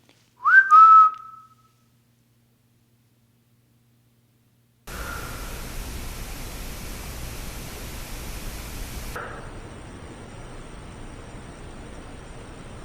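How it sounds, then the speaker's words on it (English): A single clear, close whistle rises and falls briefly inside the old Lake County Jail, followed by silence and then a long stretch of steady hissing static. "You heard that whistle though?"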